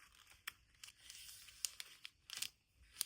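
Cellophane sheet being folded and pressed flat along its edges, giving soft crinkles and a few sharp crackling bursts at close range with no talk.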